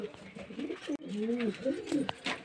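Pigeons cooing up close, soft, throaty rolling coos repeated across the moment against a quiet background, with a short break in the middle.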